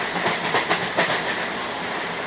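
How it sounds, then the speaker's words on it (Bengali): A Shalimar to Puri Dhauli Express passenger train running at speed, around sixty, heard from inside: a loud steady rush and hiss with a few rhythmic wheel clacks on the rails, no voices. "ট্রেনটা ভালোই স্পিডে যাচ্ছে প্রায় ষাটের উপরে রয়েছে"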